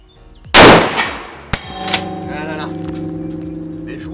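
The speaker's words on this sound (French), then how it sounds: "Du tir." A single loud, close rifle shot from a Schmidt Rubin 96.11 firing GP11 ammunition cracks and decays, followed by metallic clanks and ringing as the action is worked.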